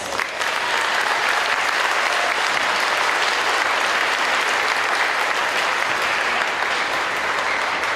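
A banquet audience gives a round of applause for student award recipients at a high school academic banquet, dense sustained clapping filling the room at an even level for several seconds.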